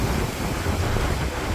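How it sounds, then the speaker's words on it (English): Wind blowing across a winter beach at Port Mulgrave, a steady broadband roar buffeting the microphone, with surf mixed in underneath and no voices. "A bit windier down here."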